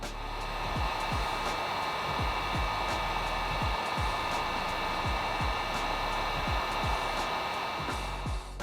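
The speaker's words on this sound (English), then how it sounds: "We're also going to be using a heat gun to wrap up the shrink wrap." A heat gun blows steadily onto shrink wrap, a loud, continuous airy roar with a faint whine held throughout, and soft repeated crinkling clicks from the plastic beneath it.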